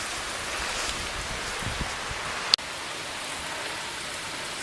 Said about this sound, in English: It's raining hard now.